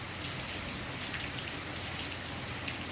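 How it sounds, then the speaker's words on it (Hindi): Steady rain pattering on leaves, a dense continuous hiss of countless drops at moderate level with no voices. "पत्तों पे गिरती हुई बारिश की बूंदें, इनका अलग ही संगीत है"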